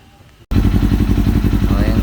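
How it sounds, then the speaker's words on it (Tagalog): A Kawasaki Ninja 400 motorcycle fitted with an Apido aftermarket exhaust pipe idles close by, a loud, deep, rapidly pulsing burble that cuts in abruptly after half a second of quiet and holds steady. "ito ang tunog ng muffler na to"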